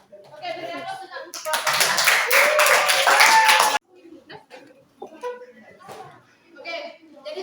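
Classroom applause, a dense burst of hand clapping lasting a couple of seconds, with people talking before and after.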